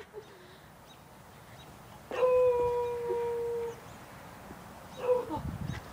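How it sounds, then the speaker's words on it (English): A dog howls with a single sustained, steady-pitched tone lasting about a second and a half, followed by a shorter faint yelp, all over a quiet noisy room background. "This is the crazy noise of the talking dog."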